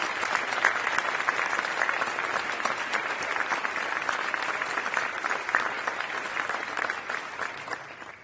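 A large audience at a defense event bursts into dense, sustained applause that holds steady and loud from start to finish, with no voices over it.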